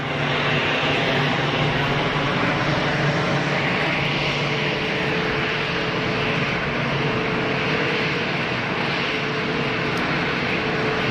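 An EasyJet airliner roars steadily at Geneva Airport, a loud, broad, continuous engine rumble with no talk.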